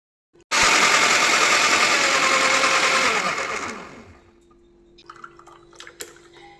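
A mixer grinder blends aloe vera juice with curd, lemon, salt and coriander, starting with a loud, close whirring roar that slows and winds down, followed by faint clinks and rattles.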